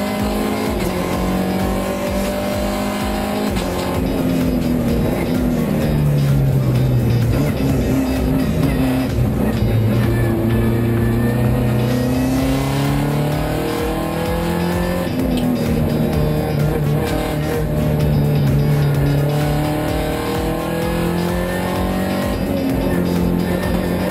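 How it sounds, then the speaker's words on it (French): A Peugeot RCZ Cup race car, number 1, heard onboard through a lap of the Val de Vienne circuit, its engine roaring loudly and continuously as revs rise and fall through gear changes. "on s'embarque à bord de la Peugeot RCZ Cup Same Speed numéro 1 de Benoît Semoulin"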